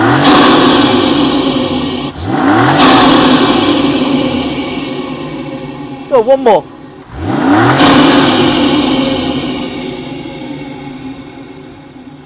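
A BMW X3 (G45) engine with a new intake close by roars through two hard revs, each climbing then dropping back to idle, with a brief spoken call between them.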